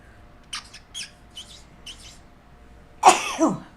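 A single sharp sneeze bursts out near the end, loud and close, after a few quiet chirpy sounds in an otherwise hushed room.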